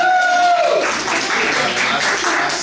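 Applause from the audience at the Kennesaw City Council candidates forum, a broad wash of clapping from a crowd that begins after a brief tone and carries on steadily to the end.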